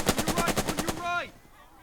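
Gunfire in the World War II strategy game Burden of Command at Casablanca: a loud, fast burst of about nine shots in steady rhythm, ending abruptly with a short vocal cry as it fades.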